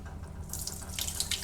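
Dirty water from a VAX carpet cleaner tank pours into a sink, a steady close splashing gush with brighter bursts of spatter, heard alone.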